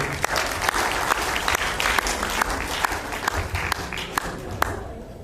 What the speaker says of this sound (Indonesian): Boleh beri tepuk tangan teman.